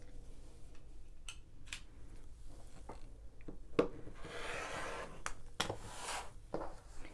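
A rotary cutter slices through layered quilting fabric along a ruler at the 2.5 inch mark, with soft rubbing and scraping strokes, a sharp click, and a longer rasping cut near the middle, close and fairly quiet.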